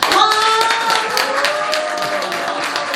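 A crowd at a Korean community gathering claps continuously, with cheering voices mixed into the steady patter of hands.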